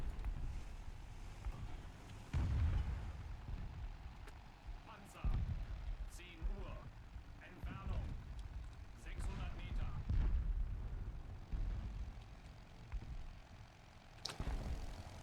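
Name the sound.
repeated explosions in the video game War Thunder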